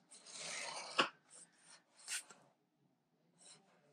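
Cardstock is scored on a scoring board: several short, quiet raspy scrapes with a sharp tick in the middle, separated by pauses, alone in a quiet room.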